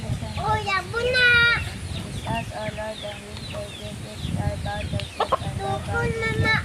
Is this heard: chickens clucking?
yes